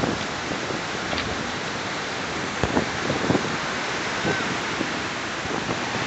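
Doodhsagar waterfall roars as a steady, dense wash of falling water beside railway tracks above a valley, continuous and fairly loud throughout with a few faint brief knocks.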